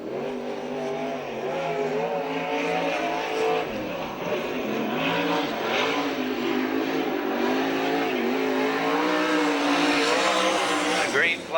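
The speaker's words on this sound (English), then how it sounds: "here comes our final sprint car qualifier" A USAC/CRA sprint car on its qualifying lap at Santa Maria, California, engine roaring loudly and continuously with rising and falling pitch through the turns and possible tire squeal, with a race announcer talking over it.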